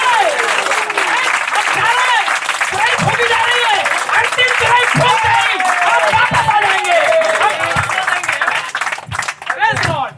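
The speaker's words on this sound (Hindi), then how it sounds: "आइए ताली बजाएं" A church congregation claps and applauds through a jubilee worship service, a steady wash of hands continuing beneath a loud voice that talks and sings over it.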